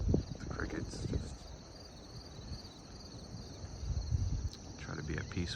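Steady high-pitched crickets chirp continuously outdoors near water in Wildwood, New Jersey, a constant trilling layer over soft low rumbling and faint ambient noise.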